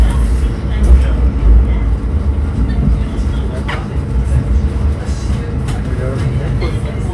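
A passenger train on a day trip from London runs along the rails after a brief stop, its heavy low rumble and rattling carriage noise steady and loud from inside the coach.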